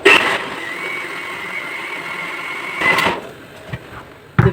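A kitchen blender whirs through cake batter with vanilla, its motor giving a steady droning whine. Louder bursts come at the start and near the end, and there are a few short knocks before the motor surges again.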